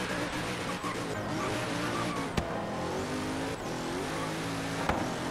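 A Zenvo ST1 engine in Forza Horizon 3, droning steadily at high revs with gear shifts and a tire squeal, loud and continuous throughout the driving.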